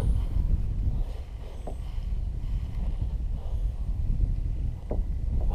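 Steady wind buffets an outdoor microphone while kayak fishing, a continuous low rushing roar with gentle surges and a few faint knocks, no talking.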